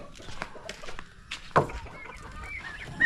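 Chickens kept on a small farm cluck in a scattered, busy way, with a few sharper calls rising over a steady background of yard noise.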